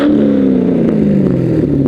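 Car engine revving hard, a loud close throaty roar held steady with a pitch that sags slightly as the revs fall, no voices.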